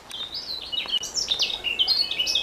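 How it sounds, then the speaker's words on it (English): Birds chirp and tweet up in the trees along a countryside bicycle route, a busy overlapping run of bright, high calls, fairly close and continuous with no talking. "birds are up in the trees."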